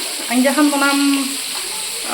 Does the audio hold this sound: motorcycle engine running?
no